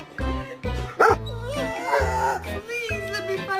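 A pet dog gives a run of close, loud bark-like yips and drawn-out whining vocal sounds in quick succession, almost without pause.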